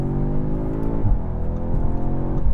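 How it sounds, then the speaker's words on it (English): A 2025 Audi S3's four-cylinder engine revs hard against the rev limiter, the exhaust droning loud and close with rhythmic bouncing surges and a few sharp pops. "And then you can bang it off the red limiter and hear the exhaust pop."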